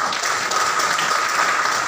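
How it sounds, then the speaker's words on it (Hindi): Steady applause from an audience at a Modicare business opportunity meeting in Siliguri, a dense, even wash of clapping held at full strength throughout with no pauses. "ताली बजा सकते हैं आप"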